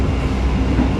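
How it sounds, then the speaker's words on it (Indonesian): A Kamandaka passenger train runs on the rails, a loud, close, steady rumble of wheels and carriage with no breaks across the short stretch. "Kereta api Kamandaka sudah tiba di stasiun Krupuk"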